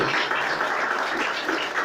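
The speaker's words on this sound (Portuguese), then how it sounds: "Quem entendeu pode aplaudir, pode louvar." Church congregation applauds during a sermon, a soft, steady patter of many hands clapping at some distance, with no voices over it.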